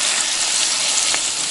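Boiling water pours into a frying pan half full of macaroni, a steady loud sizzle and hiss of hot liquid hitting the pan throughout, close by with no talk.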